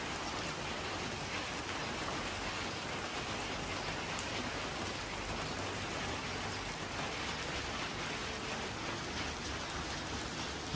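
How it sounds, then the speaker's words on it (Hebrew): Steady rain falls in Rantepao, Indonesia, in June, a dense, even hiss of drops on surfaces that stays close and constant throughout, with no voices. "יורד גשם"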